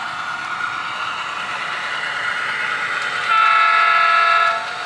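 A model train hums steadily along a garage layout, then a horn sounds loudly for about a second and a half before the running noise continues.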